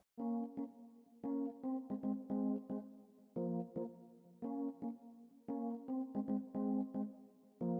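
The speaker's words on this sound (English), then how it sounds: "there's this melody that I like in the song" An Amapiano melody from a song plays alone in short, bright, repeating synth phrases with a steady rhythm and clear gaps between groups of notes.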